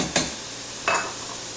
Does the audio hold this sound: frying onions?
yes